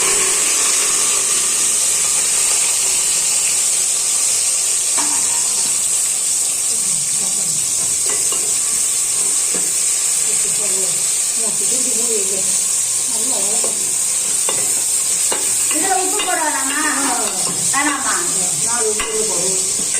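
Fenugreek seeds frying in hot oil for a Tamil fish curry, a constant bright hiss and sizzle with scattered stirring clatter while people talk in the background.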